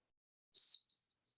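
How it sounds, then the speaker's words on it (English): A high-power rocket's flight computer sounds its startup beeps: one short, sharp electronic tone, a briefer second beep and a faint third blip, all isolated in silence. "here it's just doing the initial beeps that it does at the beginning of a launch"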